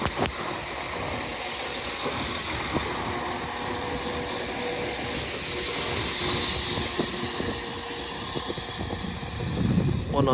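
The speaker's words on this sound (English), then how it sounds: "Arriving in now is a terminating Northern train service from Blackpool North to terminating here at York" A Northern passenger train, class 195 unit on a Blackpool North service, arrives at York station: a steady rumble with hissing and rolling wheel noise swelling midway, people talking nearby over it.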